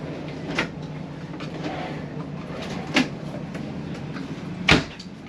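Drawers in the kitchen of a 2023 Tiffin Class C motorhome open and shut with three separate short clunks, spaced a couple of seconds apart, over a steady low background hum.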